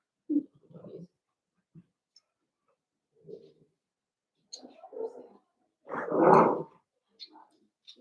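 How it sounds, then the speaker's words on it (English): Cavalier King Charles spaniel puppies at play give small scattered yips, scuffles and clicks, with a louder burst of noise near the end, close by in a quiet room. "You guys are good doggies, yes you are."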